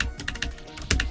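Rapid typing on a computer keyboard, a quick irregular patter of close key clicks with a few louder strikes, no voices.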